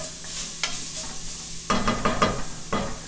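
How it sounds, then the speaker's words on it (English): Four garlic cloves hit a hot pan for a braised chicken dish, with a steady sizzle and frying hiss under bursts of stirring and scraping, close and fairly loud. "now we're gonna add 4 cloves of garlic"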